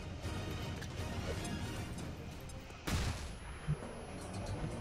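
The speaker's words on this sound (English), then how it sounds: "Throw a flashbang." A flashbang goes off in the turn-based strategy game XCOM 2: War of the Chosen, a sudden sharp burst around the midpoint over a dense, steady wash of game audio, followed by a smaller impact shortly after.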